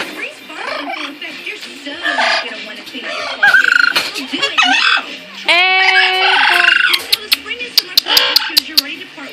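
A pet parrot squawks and clucks loudly and close by, with varied harsh calls, a drawn-out crow-like cry and sharp clicks, mixed with a person talking to it.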